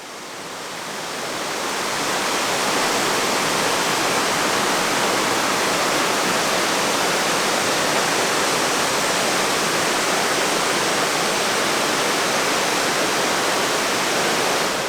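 Water gushing straight out of a rock along a canyon hiking trail near the Narrows, a loud, dense, unbroken roar that swells in over the first two seconds and then holds steady.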